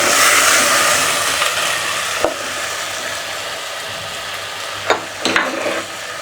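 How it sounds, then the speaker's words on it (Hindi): Chicken and taro root fry lightly in a pan with a loud, continuous hiss of sizzling oil, and a few sharp utensil scrapes and taps as the pieces are stirred. "इनको हल्का सा फ्राई करते हैं।"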